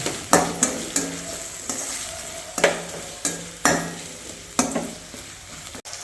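Masala with fennel seeds being sautéed in a pan, a steady sizzle broken by repeated sharp scrapes and taps of a spatula stirring at an uneven rhythm, close up, with no voices.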